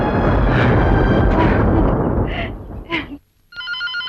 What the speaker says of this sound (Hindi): प्रिया, फोन बज रहा